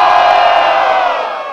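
A crowd cheers and shouts loudly and steadily at a Brazilian freestyle rap battle, a dense wall of voices close by that fades slightly toward the end.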